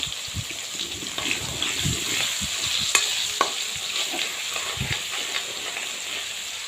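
Garlic sizzles in hot oil at the start of a cauliflower and eggplant curry, with a bright, steady hiss, scattered pops and spoon scrapes against the pan, heard up close with no voices.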